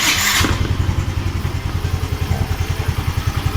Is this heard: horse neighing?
no